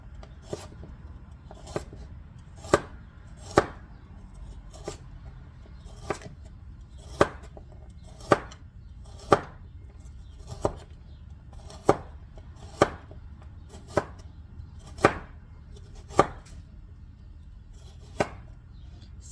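A larger knife chops salad ingredients on a cutting board in steady, evenly spaced sharp knocks, about one every second, close and crisp over a quiet background.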